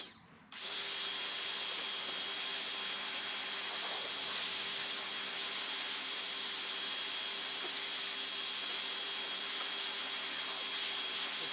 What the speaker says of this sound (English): let's go and get it pressure washed out